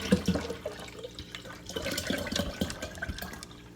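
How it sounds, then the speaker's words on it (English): Water is poured to fill a canister for lemon ginger detox water, a close, steady splashing and trickling with small drips, moderately quiet throughout. "And then I'm going to add the rest of my water."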